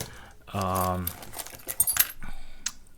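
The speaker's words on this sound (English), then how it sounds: "Car keys." Car keys jangle in a short, close metallic rattle, with a voice speaking just around it.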